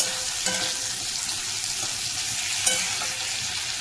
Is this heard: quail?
no